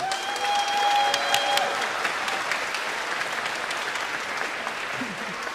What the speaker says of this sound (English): So give yourself a round of applause and take it all in.